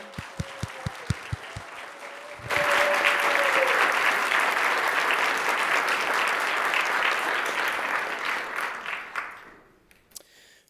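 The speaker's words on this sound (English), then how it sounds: "If we could give them a great round of applause and make them feel welcome." A room full of people in a state assembly chamber breaks into sustained, loud applause to welcome a visiting youth lobby, holding steady for several seconds before tapering off.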